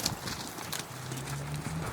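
A wild mustang's hooves clip-clop at a walk under a rider, a steady run of soft thuds with faint rustling and a low hum beneath.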